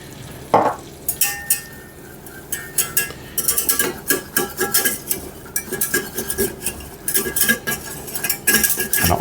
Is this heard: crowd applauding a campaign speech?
no